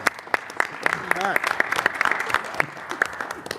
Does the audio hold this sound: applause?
yes